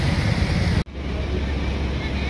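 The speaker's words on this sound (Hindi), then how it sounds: "बाहर आमर केड़े जोर वर्षा होची" Heavy rain pours down outside a hotel in a market area, a dense steady broadband hiss with a brief dropout near the start, continuous and fairly loud with no talk over it.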